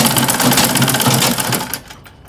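A sewing machine stitches organza fabric in a fast, even chatter of needle strokes, loud and close, then stops abruptly and leaves a brief quiet tail.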